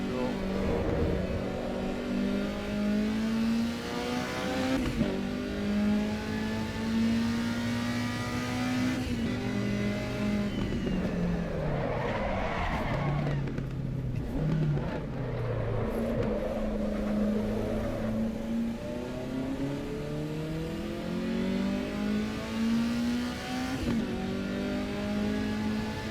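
Engine of a race car in the Assetto Corsa sim, likely an Alfa Romeo Giulia Sprint GTA or BMW M3 E30, steadily droning, with sharp rev blips on each downshift and pitch rising and falling throughout.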